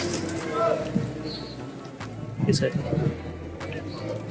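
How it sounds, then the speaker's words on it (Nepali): Pigeons coo softly at the pigeon feeding place of Pashupatinath temple, low burbling calls under a man's speech and busy outdoor crowd noise. "परेवा उडाउने ठाउँ नै परेवाहरू चारो हाल्ने काम।"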